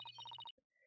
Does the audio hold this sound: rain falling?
no